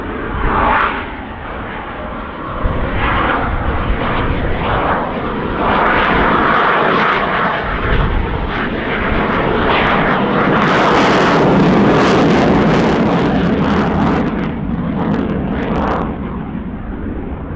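An F/A-18 Hornet fighter jet passes overhead slowly at high angle of attack, around 120 knots, its engines giving a loud, sustained roar that swells into a broad hissing rush midway before easing off.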